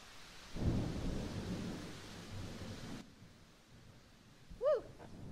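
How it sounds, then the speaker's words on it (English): A thunderstorm with steady rain, opening with a loud close thunder crack and rumble that eases into rain and fades, then a brief tonal chirp near the end. "That looks like a nasty storm out there."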